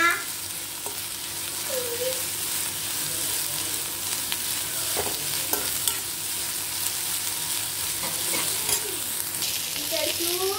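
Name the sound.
frying onions in pan for chicken burger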